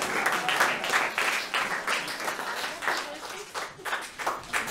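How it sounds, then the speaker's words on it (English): An audience applauds at a concert by Metropolitan Opera Orchestra musicians, with crowd clapping in bursts that rises and falls and a voice or two mixed in. "Round of applause for Nathan."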